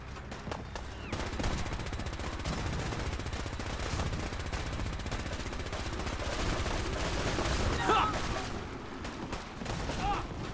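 Defenders in Fallout 4 Far Harbor open fire, a continuous dense crackle of overlapping gunshots and automatic fire at moderate distance, with faint voices in the mix.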